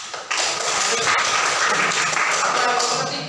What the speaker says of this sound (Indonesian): tepuk tangan untuk Mas